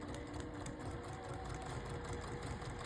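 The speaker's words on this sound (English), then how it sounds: "So I'm gonna go back to my machine, flip it back over, and sew" Sewing machine stitching fabric along a marked line, a steady, fast mechanical whirring with rapid needle rhythm running continuously at close range.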